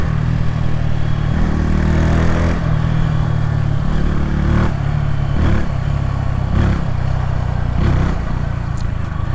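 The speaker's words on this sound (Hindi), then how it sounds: "अभी थोड़ा सा इसके एग्जॉस्ट साउंड को एंजॉय करो" A 2025 Bajaj Pulsar N160 motorcycle exhaust, loud and close, with a steady throaty idle broken by several sharp throttle blips and revs.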